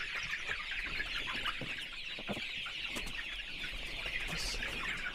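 Farm chickens cluck in a dense, continuous chorus with overlapping short calls at close range, plus a few louder individual clucks.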